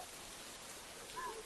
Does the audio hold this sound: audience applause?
no